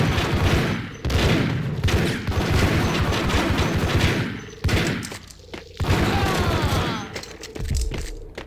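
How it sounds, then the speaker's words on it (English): Dense video-game gunfire rattles almost nonstop, loud and close, with bursts of rapid shots and heavy thuds broken by a few brief gaps, all aimed at the player. "Who's shooting me?"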